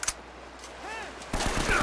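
Gunfire in Uncharted: Drake's Fortune, with a sharp close shot at the start, a pause, then a dense burst of shots and impacts near the end.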